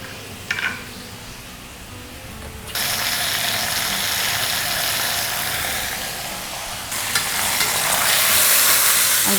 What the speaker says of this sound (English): Once it's heated, I'm just going to sear my lamb.